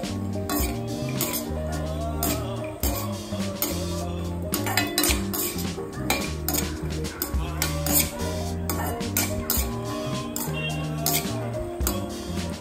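Cashews and almonds dry roasted in a pan for a multigrain porridge mix, with steady metallic scraping and clinking of a utensil against the pan throughout, fairly close and loud.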